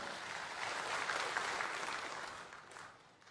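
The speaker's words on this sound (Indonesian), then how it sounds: "Tepuk tangan boleh?" An audience at a party officials' inauguration ceremony breaks into applause, a broad wash of many hands clapping that swells, holds, then tapers off toward the end, with no talk over it.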